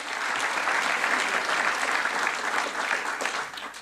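A crowd at a school board meeting applauds steadily, dense clapping that stays loud and even for a few seconds before easing slightly at the end.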